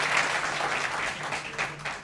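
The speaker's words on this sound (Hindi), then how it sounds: "तालियां महिला के लिए" A studio audience at a televised political debate applauds, a brief steady burst of clapping at moderate volume that fades slightly toward the end.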